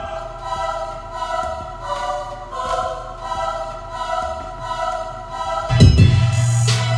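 The second choir layer of a hip-hop beat, swelling sustained vocal chords over a low rhythmic pulse, ending in a sudden loud deep bass hit near the close.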